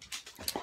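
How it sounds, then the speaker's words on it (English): A puppy gives a short burst of soft whimpers mixed with quick panting, close to the microphone. The sounds are brief and quiet, with no voices. "Hey puppy!"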